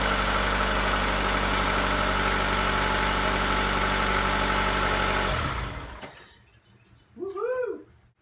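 A 22-year-old car engine idles steadily and loudly up close, then shuts off and goes quiet, followed by a short, whiny cat-like vocal sound.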